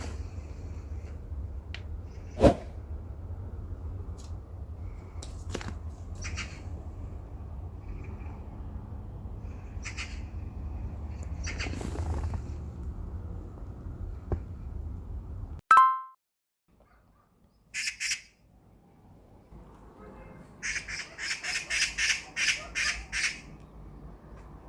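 Birds chirp and squawk outside a window in short intermittent bursts, with a louder cluster of calls near the end, against a low indoor hum and a few soft knocks.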